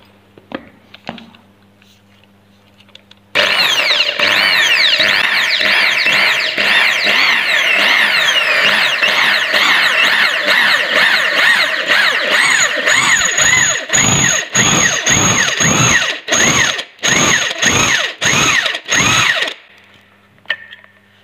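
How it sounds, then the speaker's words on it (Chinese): Drill with a resharpened bit boring a hole into thick stainless steel: a loud, steady grinding whine that starts abruptly and runs for about fifteen seconds, then breaks into choppy bursts as the bit bites and releases before stopping. "那我们在这个位置啊继续打孔"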